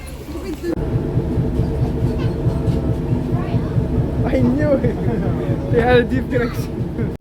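A forest excursion train on a valley railway rumbles along steadily up close, its low rolling clatter continuing under people talking nearby.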